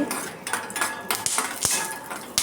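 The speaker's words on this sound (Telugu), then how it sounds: "జీడిపప్పు బాదం పప్పు తీసుకొని వాటిని నెయ్యిలో వేయించుకోవాలి" A metal utensil clinks and scrapes against a pan as cashews and almonds fry in ghee, several sharp close clinks over a sizzling background.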